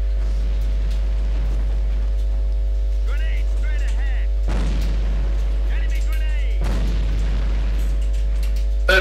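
Insurgency video game firefight with two heavy grenade blasts about two seconds apart, set against a steady mechanical drone, with scattered gunfire and faint radio-like chatter.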